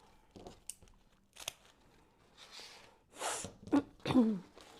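A single sharp sneeze bursts out near the end, preceded by soft rustling and crinkling sounds nearby.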